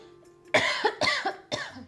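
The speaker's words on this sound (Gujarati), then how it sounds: "જો હા ઉધરસ પણ આવી મને" A woman coughs three times in close, sharp bursts, each followed by a short rasping tail, heard nearby and alone in a quiet room after a faint hum.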